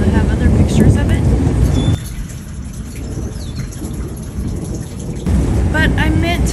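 Heavy rain with rumbling thunder during a hailstorm, a steady loud downpour that drops in level midway and swells again, broad and close with no voices.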